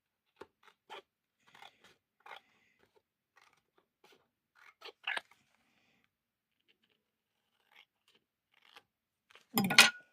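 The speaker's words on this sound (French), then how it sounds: "je pense que je vais venir faire découper ce qui dépasse" Quiet, scattered snips and crisp clicks as excess material is trimmed away during a craft project, with long pauses between cuts and one sharper, louder rustling crunch near the end.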